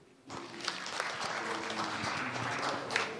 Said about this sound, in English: A clap for Chama, please.